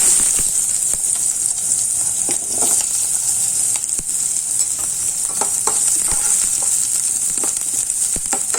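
Finely chopped onion fries in hot oil and is stirred, making a loud, continuous hiss with scattered crackles and spatula scrapes close up.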